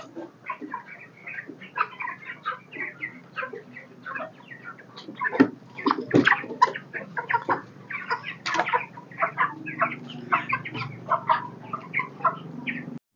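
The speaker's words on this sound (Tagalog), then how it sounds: "Yan po yung update natin sa ating mga alagang broilers." Broiler chickens about 28 days old cluck and chatter in a poultry house, many overlapping short calls forming a steady, close, lively flock murmur with no speech.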